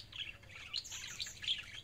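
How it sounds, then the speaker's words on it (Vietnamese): Small white-eye birds sing outdoors in a tree in the evening, a quiet run of high chirps and short trilling phrases that come and go, fairly faint, with no talking. "Ba khuyên mà hot ghê nhỉ."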